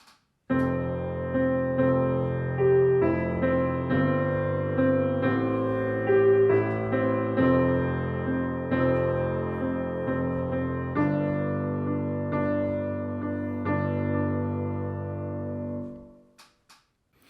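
A piano plays the slow, gentle right-hand melody of an intro over sustained notes, clear and close, ending with a fade as the last chord rings out.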